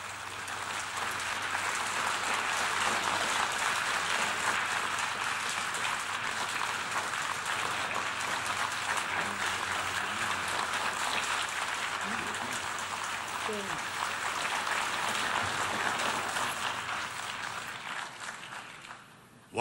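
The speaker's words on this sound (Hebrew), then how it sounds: "sustained applause for the Prime Minister of Israel and the General Assembly" Sustained applause at the UN General Assembly for Israeli Prime Minister Netanyahu, a dense wash of clapping from a large hall audience lasting close to twenty seconds before fading out, with a few voices underneath.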